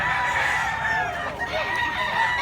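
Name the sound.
chickens and roosters clucking and crowing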